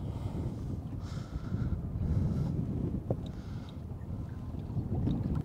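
Steady wind gusts buffet the microphone on a lake while lure fishing from a drifting boat, a continuous low rumble with faint water lapping and no voices.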